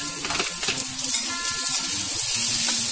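Sliced onions hit hot mustard oil in a pan while cooking jackfruit kofta, giving a steady, close sizzle and crackle that carries on evenly throughout.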